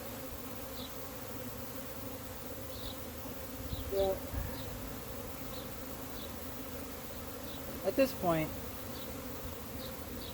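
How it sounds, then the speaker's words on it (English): Honey bees buzz steadily around an opened hive during an inspection in May, a constant drone with a few louder passes near the microphone, while a person speaks briefly. "bees are starting to get pretty mad at me"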